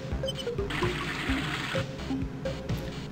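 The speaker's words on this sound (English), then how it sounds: "The sink is full of hot water." Water pours steadily into a sink stopped up with a cork and paper, filling it with hot water in the adventure game Teen Agent; a continuous close running rush with small game clicks and tones over it.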